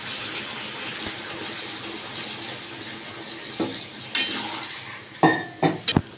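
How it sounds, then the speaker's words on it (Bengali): A small amount of water pours into a pan of chilli chicken in a steady splashing stream, followed by a few sharp clanks of a utensil against the pan, close and with no talking. "অল্প আমি জল দিয়ে দেবো।"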